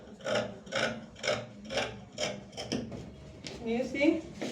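Scissors snip through fabric along the back neckline of a cowl bubu in a steady run of about eight crisp, evenly spaced cuts, close and moderately loud.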